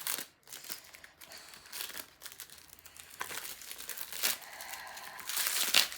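A plastic package is torn open and pulled away, giving close, crackly crinkling and rustling in irregular bursts that swell toward the end, with no talk.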